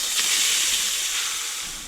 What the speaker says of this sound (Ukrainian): До розігрітої олії всипаю фарш.